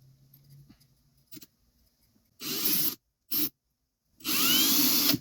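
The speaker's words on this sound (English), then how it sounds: "And I'm going to come with my drill" A power drill whirs in three short bursts, one longer, one brief and a final longer run, close and fairly loud with quiet gaps between, during work on a 1950s Swiss Monti Super spinning reel.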